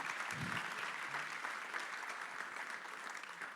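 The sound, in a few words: audience applause at a conference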